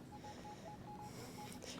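Metal detector on a beach giving a faint, repeated high signal tone in short pulses, sitting low under steady surf and wind noise.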